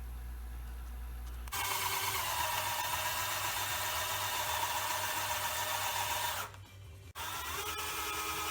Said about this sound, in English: Now I'm going to drill a hole and then plug it with a piece of mahogany in these two holes.